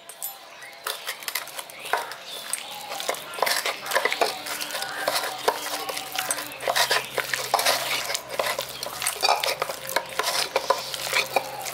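Chicken being mixed by hand with ginger-garlic paste, flour and cornflour in a village kitchen, a close, busy stream of wet squelching and stirring with clinks against a bowl, no speech.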